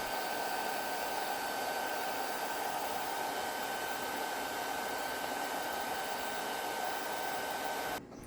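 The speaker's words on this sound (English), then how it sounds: "I used a hairdryer to soften the adhesive and remove the rubber." A hair dryer blows with a steady, loud whooshing hum for several seconds, softening adhesive to remove rubber from a Gamesir X2 game controller, then cuts off abruptly near the end.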